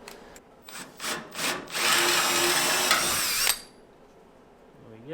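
A power drill bores into the sheet metal of a Model A coupe's windshield post during a chop: several short trigger bursts, then a loud, sustained whine of about two seconds that cuts off abruptly, close up and alone.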